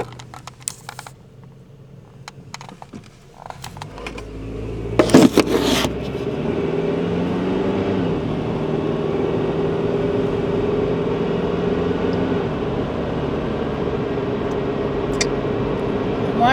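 A New Jersey car rolls past, its low rumble swelling in the middle and then holding as a steady drone, after some earlier faint clicks and scrapes.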